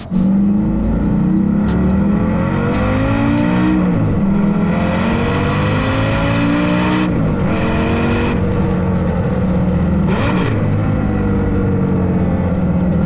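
A Lamborghini Gallardo Superleggera engine revs loud and close, climbing and falling through repeated throttle blips with a raspy, sustained roar and brief crackling pops early on, with no voices.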